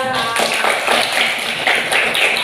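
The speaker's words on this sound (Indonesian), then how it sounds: "tepuk tangan untuk kita semua karena sudah menyelesaikan misi 1 kita" A primary school class claps together, a dense, loud and fairly rhythmic burst of many hands applauding in a classroom, continuous for the whole stretch.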